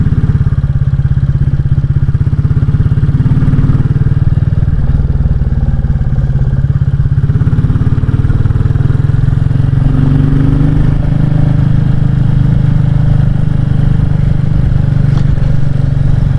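Royal Enfield Classic 350 motorcycle riding along the Gospel Pass road in Wales, its loud, steady low engine thump continuing throughout under rushing wind, with no talk.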